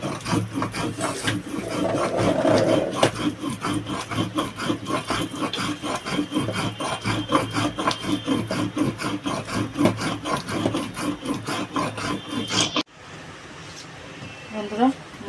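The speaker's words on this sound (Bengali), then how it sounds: "মশলাটা সুন্দর করে বেটে নেব" Spice paste ground by hand on a grinding stone, a fast, steady back-and-forth rubbing rasp repeated many times, close and loud, ending abruptly before a short quieter stretch with faint voice-like sounds.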